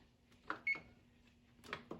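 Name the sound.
oven being switched on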